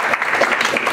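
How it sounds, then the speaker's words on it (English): Audience applause at a tech meetup, steady dense clapping filling the whole second at a fairly loud, even level with no pauses. "Give a applause, please."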